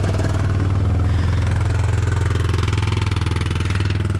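A small engine idles steadily while warming up, a close, even, throbbing chug with a faint clatter that holds at a constant pace throughout, with no voices.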